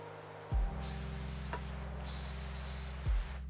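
A pressure washer in the PowerWash Simulator 2 cleaning game sprays water in a steady, hissing stream. It starts with a low thump and returns with a second thump near the end.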